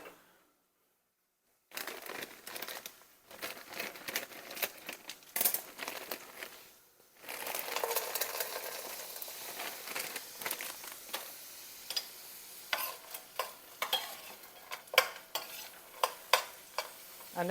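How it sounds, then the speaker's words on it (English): Frozen peas and carrots go into a pan of sautéing turkey pot pie filling: after a short silence, a busy rattling sizzle starts, broken by a brief pause, then continues with scraping, clattering stirring strokes that grow sharper toward the end. "I'm going to add just some frozen peas and carrots"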